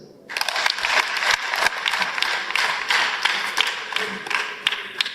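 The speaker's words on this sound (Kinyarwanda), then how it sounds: "Abanyamukoni mwiha amashyi." A church congregation at Mukoni parish bursts into applause, a dense, sustained clapping that starts abruptly and keeps going evenly, with sharper individual claps standing out through the crowd.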